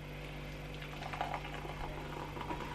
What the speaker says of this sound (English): I'm gonna add my hot water now.